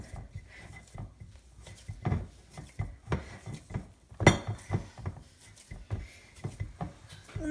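Milk powder gulab jamun dough is kneaded by hand in a bowl. Soft, irregular pressing and rubbing thumps repeat close up, with a few light clinks of the bowl.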